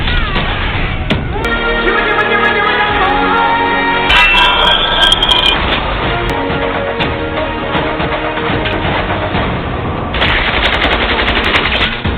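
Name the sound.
gunfire sound effect in film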